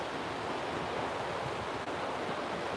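Ocean waves breaking frequently on a morning shore, a soft continuous wash of surf heard at a distance, faint and even with no voices.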